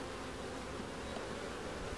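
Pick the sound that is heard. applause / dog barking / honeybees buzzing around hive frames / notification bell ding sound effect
honeybees buzzing around hive frames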